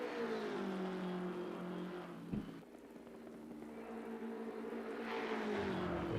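An Aston Martin GT race car in Assetto Corsa Competizione at Spa drones past at speed, its engine note falling and swelling with a gearshift blip midway, over a rain-like hiss, faint and with no speech.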